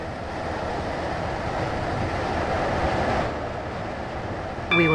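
A video game train rumbles steadily along the tracks approaching Leighton Stepford Road station, its noise easing slightly partway through, with a brief electronic tone near the end.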